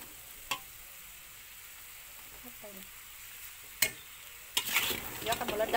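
Quiet sizzling of Banjarese tumpi dough frying in oil, with a few sharp clicks and a sudden louder crackling burst near the end.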